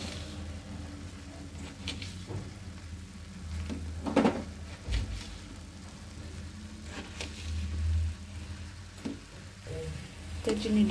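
Halwa with freshly added sugar is stirred in a pan, giving soft scraping strokes and occasional spoon knocks over a faint background rumble, with no voice heard.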